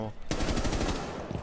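Rapid automatic gunfire in the Rainbow Six Siege video game, a loud close burst of fast shots that starts abruptly and rattles on with a brief echoing tail.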